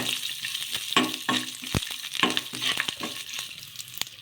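Curry leaves go into hot oil in a frying pan and are stirred, giving a close, crackling sizzle with intermittent scrapes and taps of a spoon against the pan.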